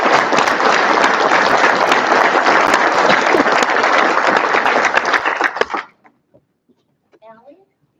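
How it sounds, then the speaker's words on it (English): A roomful of people applauds loudly and steadily at a school board regular session, the clapping cutting off sharply after about six seconds, followed by a few faint knocks and a brief murmur of voices. "So let's give them another round of applause."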